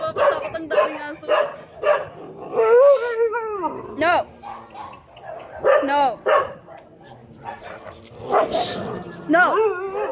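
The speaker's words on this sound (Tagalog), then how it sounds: "Napapatakot ang daming aso." Many dogs bark, yip and howl on an outdoor walk, a loud overlapping chorus close by, with a person shouting over them.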